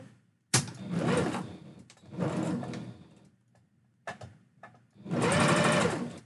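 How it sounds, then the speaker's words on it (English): A sewing machine runs in three bursts of steady mechanical whirring, with short pauses and a few clicks between them, close and fairly loud. "Me trying to talk when the sewing machine is going"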